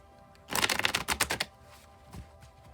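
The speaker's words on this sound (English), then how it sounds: "I'll shuffle till the deck feels ready, then I'll cut and we'll go right off the top" A deck of tarot cards being shuffled by hand during a card reading, a close, rapid burst of riffling clicks for about a second, then a few soft, faint card taps.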